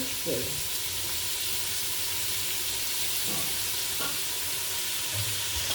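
Onions with salt sautéing in a pan make a steady, close sizzling hiss with occasional stirring scrapes.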